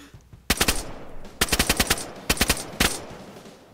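Gunfire in the video game DayZ on a PvP server: three separate bursts of rapid, loud shots, each a tight cluster of sharp cracks, with brief gaps between them.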